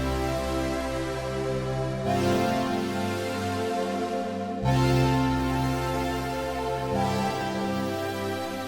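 A sustained synth tone from a mathematical series wavetable plays held notes that change pitch a few times, with a gradual swelling and fading in volume, no voices.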